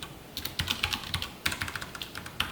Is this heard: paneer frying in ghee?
no